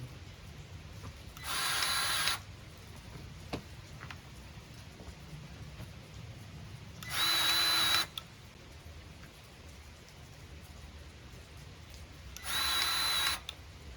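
A Milwaukee cordless grease gun whirs in three separate bursts of about a second each, spaced several seconds apart, close and fairly loud against a quiet workshop background with no talk.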